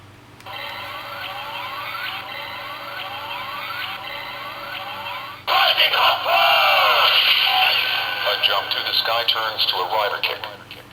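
A toy transformation belt plays an electronic siren-like sweeping tone that repeats, then switches to a louder burst of synthetic sound effects and chattering electronic voice.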